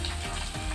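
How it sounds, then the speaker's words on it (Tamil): A steady, close sizzle of green chillies frying in hot coconut oil, continuous with no voices. "இந்த தேங்காய் எண்ணெயில் ஃப்ரை ஆகும்போது"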